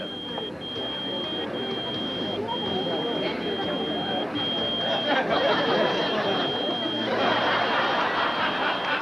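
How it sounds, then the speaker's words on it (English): A thin, high electronic beep repeats steadily at about one per second under continuous murmuring voices. "What is that beeping sound?"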